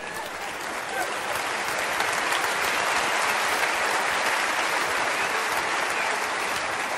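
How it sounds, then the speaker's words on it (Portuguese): Audience applause in a comedy theatre show, a sustained dense wash of clapping that swells slightly after the first second and stays loud and even without letting up. "Vocês batem palmas e o gajo não para."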